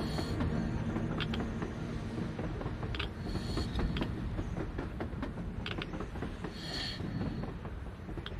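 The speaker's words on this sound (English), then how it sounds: "A train! A damn train on the surface!" A train runs on the surface in the video game Metro Exodus, a steady rumble of rolling carriages with scattered metallic creaks and squeals, carrying on for about eight seconds with no talk.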